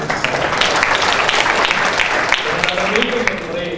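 An audience applauds at an academy inauguration ceremony for UPSC prelims students, a steady, dense wash of many hands clapping together throughout.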